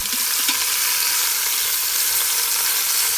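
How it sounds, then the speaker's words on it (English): Short ribs brown in hot olive oil in a pan with a loud, steady sizzle and crackle that runs unbroken and close, with no talk over it. "I did put some olive oil on the bottom of this pan when it was hot. And you can see they're getting nicely browned."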